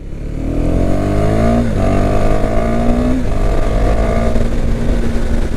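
A loud motorcycle engine brakes by downshifting, winding down in stepped drops as gears shift lower, revs falling between each shift while the bike slows from about 80 km/h without brakes.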